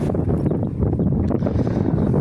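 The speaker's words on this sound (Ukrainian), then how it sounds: "сьогодні дує капець у нас якийсь вітер." Strong wind roars and buffets steadily against the microphone, a constant loud rumble with no voices.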